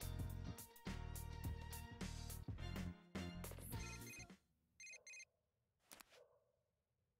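A text message alert from the Persona 4 Golden video game: short bright chime tones sound as the busy game music cuts out, followed by another brief ping in the quiet that follows.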